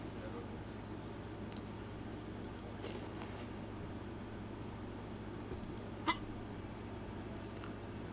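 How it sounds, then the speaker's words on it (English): One sudden hiccup, quick and close, stands out against a steady background hum, with faint clicks and rustles scattered elsewhere. "Sudden hiccups here."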